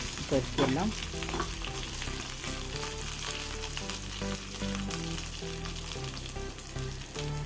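Hot oil sizzling and crackling as a curd rice seasoning is stirred in a pan, with a steady frying hiss, scraping stirs and a few clinks from the spoon, and no talking.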